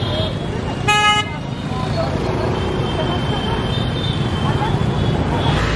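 Traffic rumbles on a jammed road, a car horn toots once near the start over a continuous roar of engines and road noise, with someone talking throughout.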